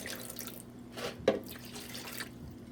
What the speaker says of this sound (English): So there's a cup of water, and I'm gonna be pouring another cup